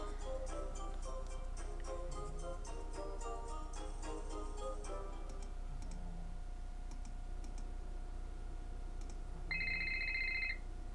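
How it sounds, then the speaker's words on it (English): A telephone rings in the Nancy Drew game The Deadly Device, a short electronic tone near the end after a stretch of keyboard typing and clicking over steady background hum. "Phone call."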